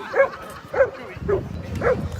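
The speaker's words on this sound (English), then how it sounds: "There's another puppy." A Bernese mountain dog puppy gives four evenly spaced high yips or barks, close and fairly loud, over a low background murmur.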